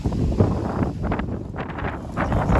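Outdoor wind buffeting the microphone in a field during metal detecting, a loud, low, rumbling roar in uneven gusts with no voice.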